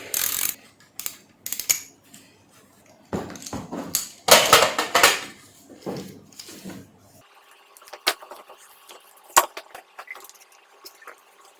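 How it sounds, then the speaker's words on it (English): An 11mm nut driver works on the power cable connection of a Hayward Mako Shark 2 pool cleaner, giving close metallic clinks, rattles and scraping taps in irregular bursts, followed by quieter handling. "I will disconnect the power using 11mm nut driver."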